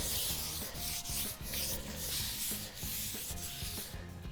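A poured-concrete-look finish is rubbed out by hand on a custom wood bar, with steady, close, raspy scrubbing strokes repeating in a rough rhythm, alone and fairly quiet.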